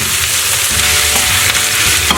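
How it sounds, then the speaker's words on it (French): Onions frying in olive oil in a pan give a loud, close, continuous sizzle with bright crackling and a few stirring scrapes, no voices present. "dans une poêle faites revenir vos oignons avec l'huile d'olive"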